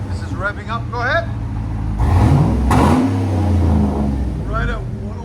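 A 2007 Cadillac Escalade with a 6.2L V8 and a Flowmaster Super 10 exhaust revs up close by, its deep rumble rising and surging over a few seconds while people talk over it before and after.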